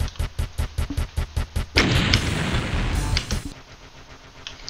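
Rocket launcher firing in Doom, played in GZDoom: a quick series of evenly spaced punchy shots, then a loud close blast that rolls into a long, rumbling roar and slowly fades, with no voices.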